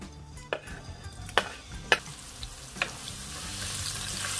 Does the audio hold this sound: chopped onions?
yes